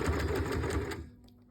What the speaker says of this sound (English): And then I'm just going to start sewing.